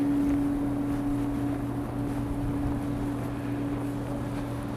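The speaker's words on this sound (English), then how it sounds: "Oh my god, it's so windy." Strong wind blows hard during a Minneapolis blizzard, a loud, constant roar over a bridge, steady with a low hum throughout and no speech.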